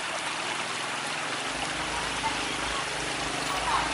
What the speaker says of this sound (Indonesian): Dan ketika batu yang berada di sumber air dibuka, ternyata sumber airnya lumayan besar teman-teman.